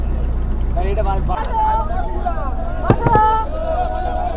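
A motor launch on a river heading toward the Sundarbans, its engine a steady low drone close by throughout, with voices talking over it.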